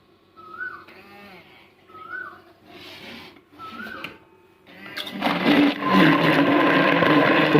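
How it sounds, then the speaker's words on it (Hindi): Electric grinder-type mixer blending jaggery syrup: a few short whirring pulses come first, then the motor runs steadily and loudly with a harsh, rough whine. "मेरे पास चूँकि ये मिक्सर पड़ा हुआ है जो कि ग्राइंडर टाइप है, इससे बड़ी अच्छी तरह से मिक्स हो जाता है"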